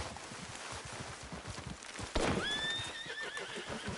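A horse in the Red Dead Redemption 2 video game clip-clops steadily at close range, then gives a loud neigh and whinny partway through, with no talk.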